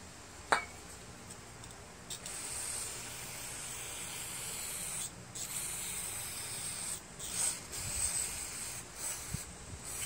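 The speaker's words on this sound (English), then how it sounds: "I'm going to take a wire brush and clean all this stuff." A wire brush scrubs the dirty gasket area of a Kohler 6.5 149cc engine on a Lawn-Boy 20-inch push mower, a steady, close, hissing scrape that runs in strokes with brief pauses.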